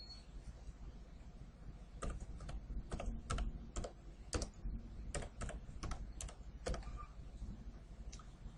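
Fingers typing on a computer keyboard, a quick run of crisp, close key clacks in short bursts with irregular pauses, quiet and with no talking over them.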